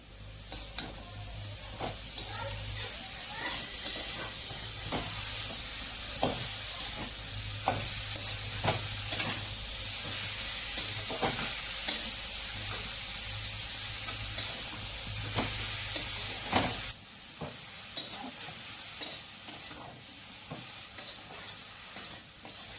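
Leafy greens stir-fry in a pan with salt and a little turmeric, a steady sizzle and hiss running throughout with repeated sharp scraping clicks of a spatula stirring, then a quieter stretch where the sizzle drops near the end.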